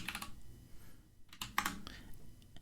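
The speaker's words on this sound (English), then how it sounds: "if you start typing the first couple of characters" Quick bursts of keystrokes on a computer keyboard during a data-science workshop, irregular clicks in short runs with pauses, fairly quiet and close, no talking.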